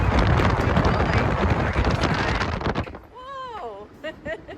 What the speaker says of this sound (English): Suddenly, everything got dark and windy.